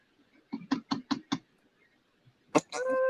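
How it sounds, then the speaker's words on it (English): Four sharp knocks on a door in quick succession, close and distinct, followed by a pause and then a single louder rap before other sounds begin. "You knocked on my door, right?"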